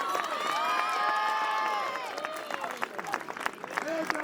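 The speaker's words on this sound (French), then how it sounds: "Je voudrais qu'on applaudisse bien fort notre maître du feu, Dragon" Festival crowd at an outdoor fire-performance show applauds and cheers, with whistles and shouting voices over steady clapping that thins into scattered claps and chatter toward the end.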